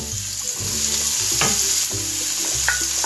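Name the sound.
aubergines frying and being stirred for ratatouille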